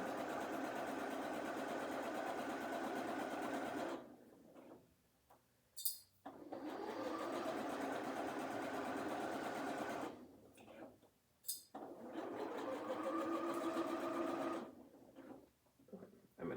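A sewing machine stitches a pillowcase in steady bursts of rapid stitching, stopping twice briefly between runs with short quiet gaps and small clicks.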